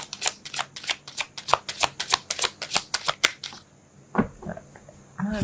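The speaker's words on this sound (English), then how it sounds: "Okay, come on. Can I shuffle?" A deck of tarot cards being shuffled by hand, a rapid series of crisp riffling slaps in steady rhythm, close and clear, followed by a brief pause and a few softer card handling sounds.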